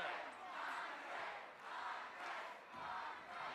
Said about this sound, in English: we hear the chant that I'm sure we're going to hear sometime during the match